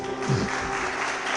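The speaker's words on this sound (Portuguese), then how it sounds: "Se coloque de pé, aplauda o Senhor" A church congregation claps together in worship, a brief burst of steady applause mixed with a faint voice in the background.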